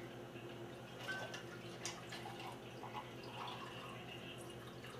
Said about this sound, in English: pour it over ice